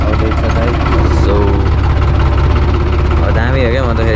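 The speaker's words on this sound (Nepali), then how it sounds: "ट्र्याक्टर चलाउन लाग्यो" A tractor engine runs at a steady, loud, low rumbling idle close by, with a voice talking over it.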